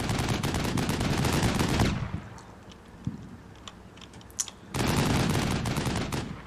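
Dense automatic weapons fire from a Combat Mission Shock Force 2 platoon battle, loud rapid bursts that stop abruptly, leaving a few isolated distant shots and clicks, then resume as sustained heavy gunfire.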